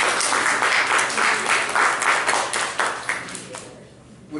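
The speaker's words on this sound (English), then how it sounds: "Please give your partner a round of applause." A room full of people applauds steadily, the clapping dense and lively before fading out toward the end.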